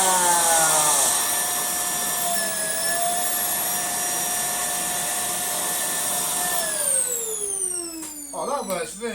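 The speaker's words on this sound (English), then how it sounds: "let's test the power of this turbo brush." A Russell Hobbs 2000W bagless vacuum cleaner running with a turbo brush, a loud steady whining motor with a pitch dip midway, then winding down near the end as a voice speaks.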